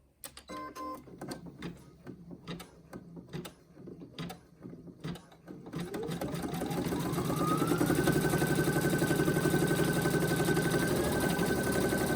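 A sewing embroidery machine stitches a tack-down outline around a top-zip bag. Irregular mechanical clicks come first, then the motor runs up into a loud, steady whirring hum that holds to the end.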